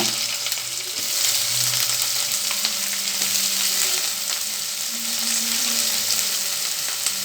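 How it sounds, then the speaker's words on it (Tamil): Onions sauté in oil in a kadai for green peas poriyal with a steady, loud, close sizzle broken by occasional light stirring taps and scrapes, with no voices. "இது கொஞ்சம் நேரம் வதங்கட்டும்."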